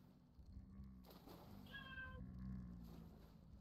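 A single cat meows once, clearly, over a busy background of people talking and game noise. The meow is mid-loud and short, rising above the chatter for about half a second.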